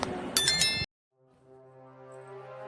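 A bright, ringing notification bell for a YouTube bell icon chimes once loudly, then cuts to silence before a faint sustained tone swells in.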